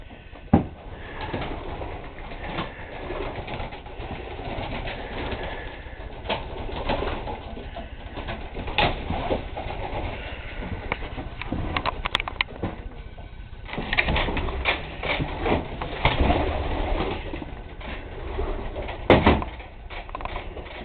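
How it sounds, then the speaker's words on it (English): Racing pigeons kept indoors in their loft give soft repeated coos over a muffled background, with occasional knocks, flutters and wing sounds nearby. "Poor pigeons. Can't get out this weather."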